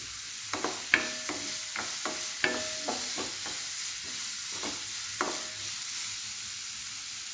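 Chopped onion and green chillies are sautéed in a pan for tomato theeyal, a soft steady frying hiss punctuated by intermittent metallic spoon clinks and scrapes.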